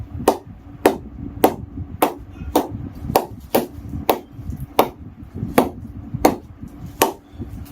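An old, well-used leather cricket ball, seventy overs old, striking the face of a new willow cricket bat in a steady series of about a dozen sharp, crisp knocks, heard close against a low background murmur.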